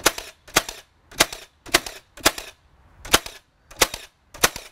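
A Milwaukee M18 Fuel finish nailer fires nails in a steady series of eight sharp, loud, close cracks spaced roughly half a second apart, each ending abruptly, with no talk over them.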